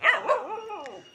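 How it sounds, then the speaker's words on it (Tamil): Dog barks and yelps at a home where two dogs are kept, several close, loud harmonic calls in quick succession over about a second, fading toward the end. "இந்த 2 நாய் தாங்க"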